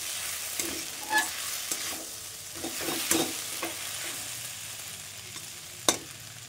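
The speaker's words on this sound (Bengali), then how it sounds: "হালকা আঁচেতে সাবুটা নাড়িয়ে চাড়িয়ে নেব।" Sago pearls stirred in a pan over low heat, with a soft steady sizzle and scattered scraping taps of the spoon against the pan, close and clear without speech.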